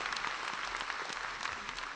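Steady, dense applause from a studio audience at a Senegalese televised debate show, loud and continuous for the whole stretch with no pauses.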